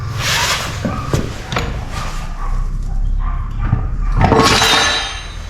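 A dog barks a few times somewhere around a workshop where a John Deere 3130 tractor engine is being stripped down, with clinks and knocks of metal parts alongside.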